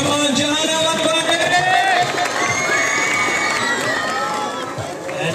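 A large crowd at a stage event in Jehanabad cheers and shouts loudly and continuously, with children's shrill yells and whoops rising above the dense, close hubbub.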